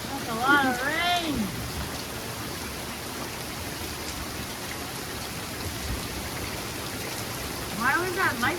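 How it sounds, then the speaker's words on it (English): Heavy rain pouring down during a passing thunderstorm, a steady dense hiss that fills the whole stretch, with people speaking briefly near the start and again at the end. "it's raining hard, eh?"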